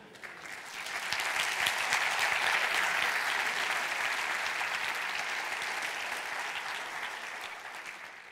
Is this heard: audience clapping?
yes